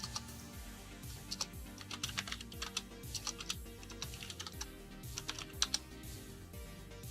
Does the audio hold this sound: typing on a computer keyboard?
yes